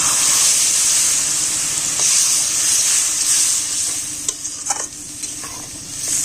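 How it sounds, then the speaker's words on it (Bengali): Water hits a pan of frying Bengali prawn masala, setting off a loud, steady hiss of sizzling and steam, with a few light clinks from stirring near the end. "এবারে 1 বাটি মতো জল দিয়ে দেবো।"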